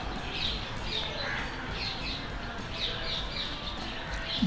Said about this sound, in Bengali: খাঁচার মধ্যে পাখি রেখেছে।